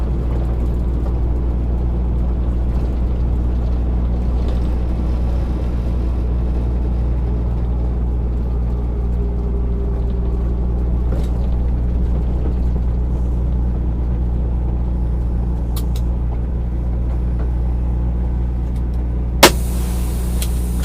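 Truck driving along a road on a 26-minute trip, a steady, loud low engine drone and road rumble throughout with a single faint click near the end, no talking.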